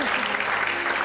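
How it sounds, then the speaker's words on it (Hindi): A short burst of dense, steady clapping from a small studio group on an Urdu TV drama set, close and even, with voices faintly under it. "तालियां होनी चाहिए"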